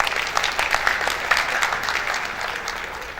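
An audience at an annual assembly of registered quantity surveyors applauds with steady, dense clapping that holds evenly and tapers slightly near the end.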